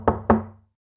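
Two quick knocks on a door, close and fairly soft, sharp hollow raps spaced a fraction of a second apart, followed by quiet.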